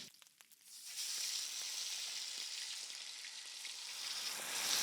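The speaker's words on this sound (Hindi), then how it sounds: "ये ऐसी आनी चाहिए आवाज। तो ये एक तरफ तो ये चिकन भुन रहा है" Chicken sizzles in oil with whole spices such as black pepper, cardamom and bay leaf, a steady bright hiss after a few initial crackles and clicks, close and loud throughout.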